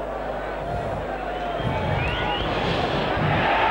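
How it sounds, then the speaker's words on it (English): A rugby league crowd at a Wigan versus Widnes playoff roars and shouts steadily during a long conversion kick taken near the touchline, a dense sustained din that swells toward the end, with a commentator speaking over it. "the crowd is shouting it over"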